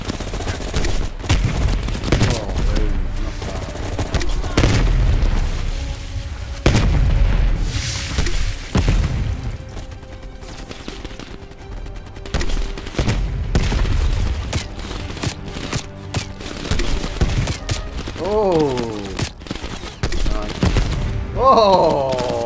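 Grenade launcher fire and explosions in Call of Duty Cold War's End Of The Line mission, with crash survivors fighting off a VC attack: repeated booming blasts and bursts of gunfire that carry through the whole passage, under occasional voices.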